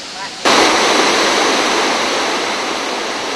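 Tad Pha Suam waterfall in Laos roars loudly and steadily. After a brief quiet moment a broad rushing wash of water cuts in sharply and then holds nearly constant.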